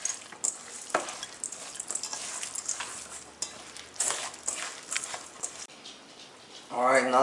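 Wet squelching and patting as albondigas meatball mixture is mixed by hand in a bowl, a continuous uneven stirring texture with a brief voice at the end.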